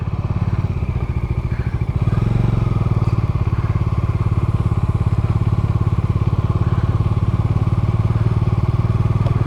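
A big, heavy motorcycle rides an unpaved dirt road toward Parasnath Hill in Jharkhand, its engine chugging loudly and steadily close by, with a brief quieter stretch at the start before the thumping pulse settles in.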